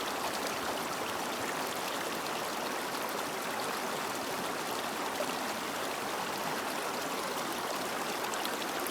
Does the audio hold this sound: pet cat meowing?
no